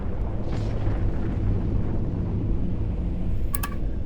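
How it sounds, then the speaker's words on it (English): A ship takes fire in the space game Eve Online, giving a steady, heavy low rumble like continuous explosions that holds loud for the whole stretch, with a short bright metallic ping near the end and no voices. "Oh, he's shooting me."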